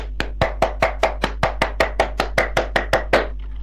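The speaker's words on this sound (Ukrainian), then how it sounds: "я надіюсь, що наші хлопки, звісно ж, було чути" Two people clap by hand, about fourteen sharp, evenly spaced claps in a steady rhythm, close and loud with no talking.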